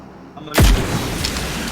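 A rocket launcher in PUBG Mobile fires with a sudden loud booming blast that drops into a deep rumble, then a sustained noisy roar trails off, with no voices.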